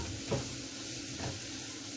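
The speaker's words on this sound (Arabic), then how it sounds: "تشويحه خفيفه بس تظهر الريحه" Lentils and garlic sauté lightly in a pan with a soft, low sizzle and two brief stirring scrapes.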